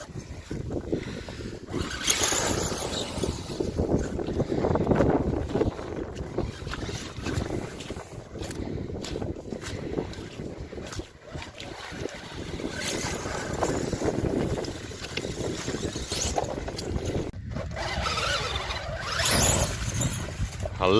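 An FTX Outback Fury brushless RC mud truck with a 3660kv motor on 3S runs through wet ground, its motor surging and fading amid splashing and heavy wind buffeting the microphone.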